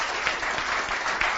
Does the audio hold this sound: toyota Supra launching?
no